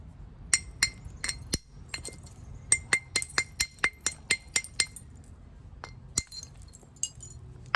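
Stone knapping by percussion on dacite: a string of sharp, glassy clinking strikes, close and crisp, some in quick runs, with short quiet gaps and a faint low background.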